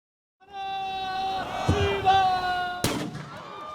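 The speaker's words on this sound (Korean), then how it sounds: "폭죽 소리와 함께 수백 명의 사람들이 일제히 달려나옵니다." At the start of the Yangcheon marathon beside Anyangcheon stream, a sharp firecracker bang cuts through a loud, sustained crowd roar and horn-like tones, followed by continuing cheers.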